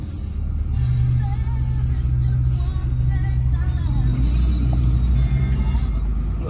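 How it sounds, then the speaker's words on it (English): A 2004 Dodge Ram 3500 engine idles steadily up close, a continuous low rumble holding even throughout with faint background voices beneath. "Let's let you listen to the motor here."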